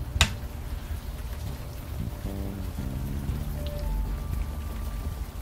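Rain falls steadily in the video game Unavowed, a soft continuous patter under low game ambience, with a sharp tap at the start and some faint tonal notes partway through.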